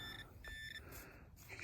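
A metal detector beeps over a small piece of aluminium at the edge of a field, with steady electronic tones close by and no talk.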